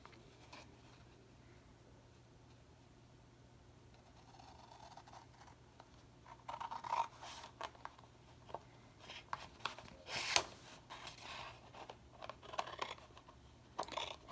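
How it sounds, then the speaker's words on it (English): Scissors snip through scored cardstock for a wedding exploding box. A few faint, crisp cuts come at irregular intervals over a quiet room background, with no talking. "I'm just going to try this with scissors."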